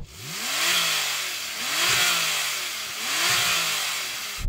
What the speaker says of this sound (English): Now let's hear the 991.